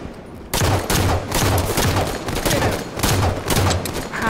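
Gunfire in a Halo 5: Guardians SWAT match, repeated bursts of loud shots coming in clustered volleys with brief gaps between them.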